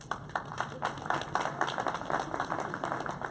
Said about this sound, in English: Coach Banks, y'all want to give him a round of applause?